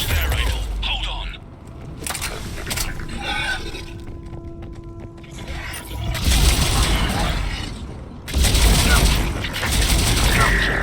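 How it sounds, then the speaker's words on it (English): Missile launches in the Mass Effect game during the final mission's push on Earth: bursts of broadband roaring blasts in two waves with crackling mechanical clatter, heard over a steady low rumble. "We're firing remaining missiles."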